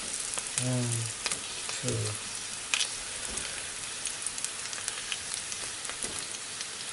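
Pressed green plantains fry in hot oil for a Jamaican-style dish, giving a steady close crackling sizzle throughout, with a few faint clinks and a brief voice counting near the start.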